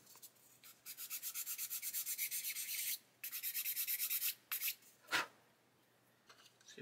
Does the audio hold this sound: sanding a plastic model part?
yes